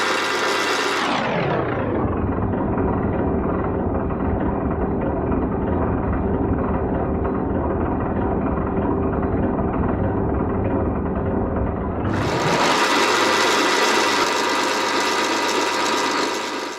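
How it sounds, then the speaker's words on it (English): A milling machine spins a rotary broach tool with a steady, loud, close mechanical whir and gear rattle. The pitch sinks and holds low, then rises sharply near the end. "I can also use the tool in my milling machine. Here, with the tool spinning and the work held stationary"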